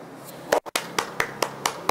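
About half a dozen sharp, isolated handclaps land close by in a quick, slightly uneven rhythm, with a brief silent gap early on, and no other voices around them.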